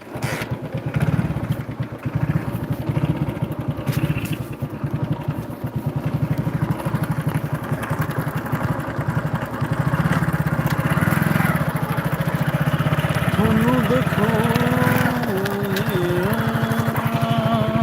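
A motorcycle engine runs loudly and steadily throughout, its rumble rising in pitch near the end as it revs.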